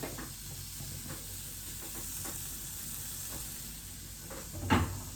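Chorizo sizzles steadily in a hot pan, a constant soft frying hiss with a few faint stirring knocks and one louder clatter near the end.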